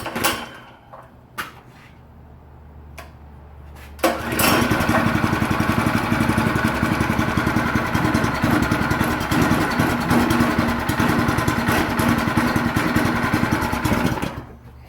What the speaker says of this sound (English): we're going to fire the engine up